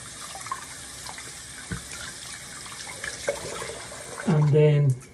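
Steady running water from a home tap with faint rubbing and splashing as hands are washed with soap, swelling louder near the end as hands move under the stream.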